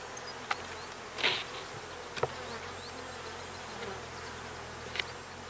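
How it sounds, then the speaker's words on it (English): Honeybees buzz steadily inside an opened hive split, a close, continuous hum broken by a few sharp clicks and taps. "So seem to be a lot of bees in there, which is a great sign."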